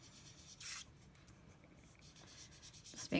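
An ink blending tool swirls across paper with soft, steady rubbing strokes, broken by a couple of brief, louder scuffs near the start and end, with no voices.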